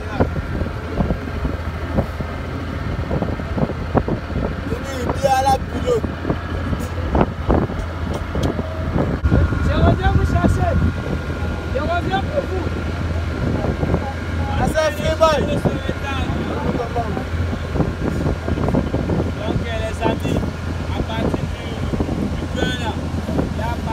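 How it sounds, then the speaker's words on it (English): Strong coastal wind at Kribi, Cameroon buffets the microphone in constant rough gusts while a person talks over the roar. "The wind has been crazy, guys."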